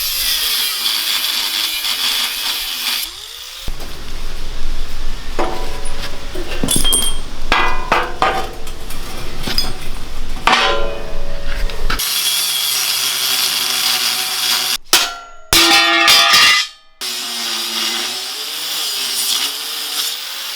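A cutting disc grinds through welds on a steel go-kart frame in harsh, loud stretches that rise and fall in pitch, broken by short pauses and metallic clinks.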